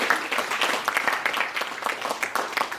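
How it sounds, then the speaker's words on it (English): An audience at a presentation event gives a round of steady applause, a dense crowd clapping at moderate loudness with no voices over it. "let's give another round of applause"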